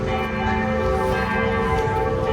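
Church bells ring nearby in Amsterdam, a dense, continuous wash of overlapping tolls with sustained ringing tones filling the whole stretch at steady loudness, no voices over them.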